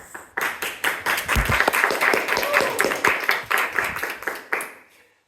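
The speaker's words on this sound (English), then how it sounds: "Big applause." Audience at a Toastmasters speech event bursts into close, lively clapping with audible individual claps, holding for several seconds before tapering off.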